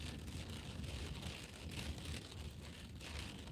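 Steady rain falls outside a garage, a soft continuous hiss with no breaks or voices, fairly faint and even throughout.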